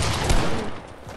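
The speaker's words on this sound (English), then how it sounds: "I'm not even trying to fight you, and you just start shooting me." Gunfire in a Fortnite 1v1 match, a short dense burst of shots that fades out over about a second, with no talk.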